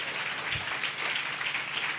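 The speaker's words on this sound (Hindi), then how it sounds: "ताली बजाकर प्रभु को धन्यवाद दीजिए।" A congregation at a Sunday church service claps together in thanks to God, a dense, steady patter of many hands filling the room without pause.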